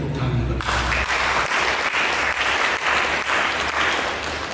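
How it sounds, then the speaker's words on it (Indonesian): A church congregation breaks into sustained applause during a sermon, a broad wash of many hands clapping at moderate distance that continues throughout after a brief voice at the start. "Mari kita berikan tepuk tangan."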